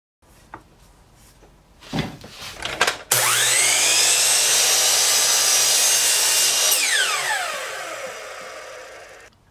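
A miter saw cuts wood stock to length, with a few handling clicks and knocks before the motor spins up into a loud, sustained whining cut that winds down at the end.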